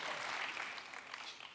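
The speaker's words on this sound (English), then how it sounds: "let's give them a round of applause" Audience at a New York City mayoral forum giving a round of applause, a soft, distant wash of clapping that fades slightly over its short span.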